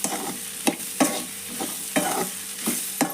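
Onion and tomato frying in a tempering for North Karnataka-style cauliflower palya, with a crackling sizzle, punctuated by regular scraping stirs about every half second, close and fairly loud, no voices.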